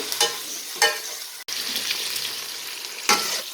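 Chicken pieces fry in a pan with green chilies and onion, producing a dense continuous sizzle punctuated by three or four loud scraping stirs at intervals, up close with no talking.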